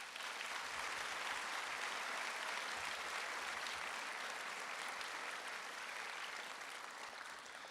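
Sustained applause from an audience honoring students at a high school senior awards night, a dense, even clapping that fills the room and fades slightly toward the end.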